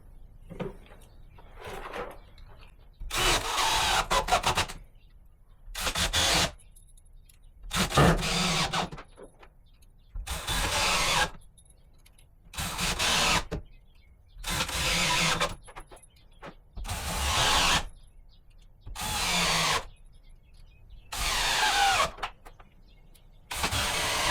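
Power driver driving screws into wall boards, heard as roughly ten loud whirring bursts of a few seconds each, separated by short silent pauses, up close with no talking.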